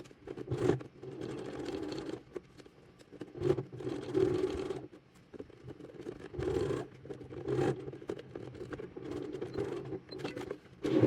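A sewing machine stitches a seam on tailored trousers, with bursts of whirring motor and needle that run for a second or more, then stop between short pauses as the fabric is moved. It is close and moderately loud, with no talking.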